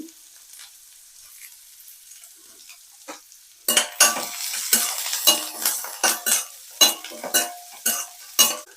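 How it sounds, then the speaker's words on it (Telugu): Onions and curry leaves sizzling in hot oil for a banana stem fry tempering, quiet at first, then a loud burst of frying with repeated rhythmic stirring scrapes against the pan, close and without talk. "నెక్స్ట్ ఉల్లిపాయ ముక్కలండి ఒకసారి ఫ్రై చేసుకుందాము కొంచెం ఫ్రై అయింది కరేపాకు వేస్తున్నానండి"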